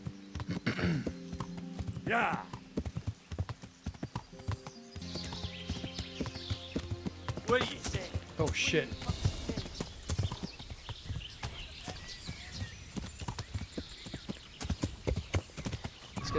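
Horse hooves clip-clop steadily at a riding pace in the medieval video game Kingdom Come: Deliverance, with occasional whinnies and game sounds, while a player talks over them intermittently.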